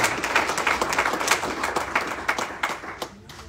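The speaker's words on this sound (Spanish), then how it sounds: "Gloria, dele fuerte palmas a Dios, hermano." Congregational applause at a chaplains' graduation ceremony in Reno, Nevada: a room of people clapping in dense, lively bursts that taper off near the end.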